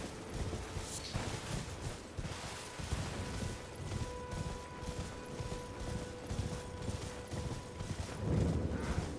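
Horse hooves clip-clop in Elden Ring's Stormhill, a steady repeated rhythm of soft footfalls under a droning game ambience and music, moderately loud throughout with no talk.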